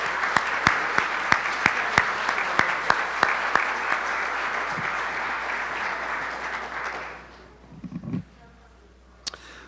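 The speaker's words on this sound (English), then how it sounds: "let's have a round of applause" A room full of people at a physical therapy research forum claps in steady applause with a few louder individual claps, then it fades out and a brief murmur follows.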